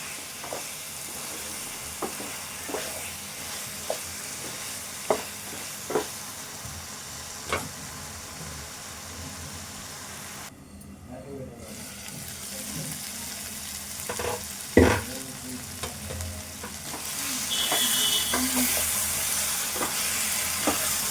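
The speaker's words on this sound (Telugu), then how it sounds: "ఈ కొత్తిమీర ఉడికేసరికి ఈ చికెన్ కూడా దగ్గర ఫ్రై అవుతుంది" Chicken dry-frying with coriander and green chillies in a pan gives a continuous close sizzle with periodic spoon taps and stirring scrapes, turning into a louder, hissier frying near the end.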